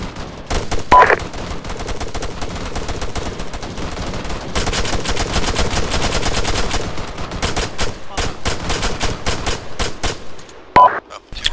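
Heavy sustained gunfire in ArmA 3, long strings of close automatic and rapid shots laying down cover fire, dense and loud across the whole stretch with brief pauses.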